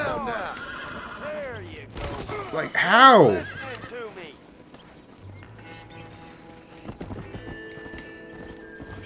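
Video game horse whinnies loudly in a rising-falling cry, with hollow clip-clop hoofbeats before and after, while someone talks over the game sounds.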